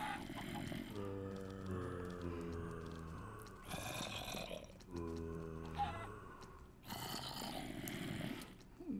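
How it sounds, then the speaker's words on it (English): Zombie noise in a video game: a few low, drawn-out groaning growls come in separate bursts, quiet and close, with brief clattering sounds between them. "Makes a zombie noise."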